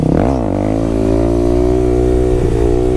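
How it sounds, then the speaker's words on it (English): A Yamaha WR250X motorcycle engine rises on a half-throttle rev during a wheelie in second gear, then holds a loud, close, steady drone with a slight dip near the end. "One finger on the clutch, and then I think I give like a half throttle"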